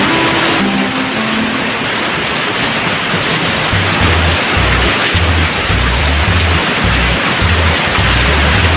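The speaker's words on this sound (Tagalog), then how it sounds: "Ang lakas ng ulan guys." Heavy rain pours over a rural farm field in hilly country, a loud, steady broadband roar that never lets up, with rhythmic low mechanical thumps underneath. No one speaks.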